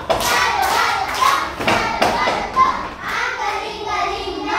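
Children in a classroom clap in uneven bursts, with sharp hand slaps and thumps scattered among their chatter and voices close by.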